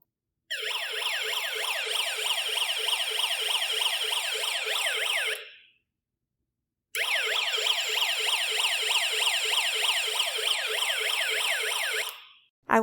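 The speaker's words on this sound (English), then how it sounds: "The assembly of this circuit should play the police car siren when I turn on the switch." An electronic police car siren played by a snap-together electronics kit circuit, a loud rapidly warbling wail in two bursts of about five seconds each with a pause between, no talk.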